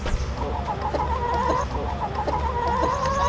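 Backyard homestead chickens clucking steadily and close, a busy overlapping chorus of hen calls running throughout over low ambient rumble.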